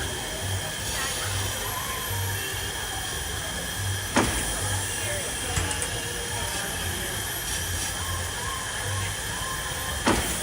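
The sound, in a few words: coal-powered steam engine train, Dollywood Express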